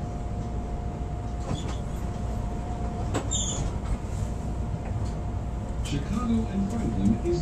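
Chicago CTA Brown Line train running on rails toward the Loop, a steady rumble with rattles and faint wheel squeals heard from inside the car, with an announcement voice over it.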